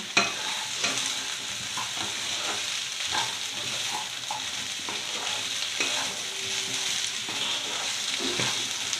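Eggplant pieces sizzle in a pan with fried potatoes and onion, a steady close frying hiss broken by repeated scraping and stirring knocks.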